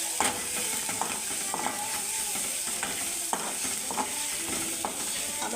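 Broccoli frying in a pan with turmeric, garam masala and flour, giving a steady sizzle under repeated scraping and stirring strokes; close and fairly quiet, with no talking.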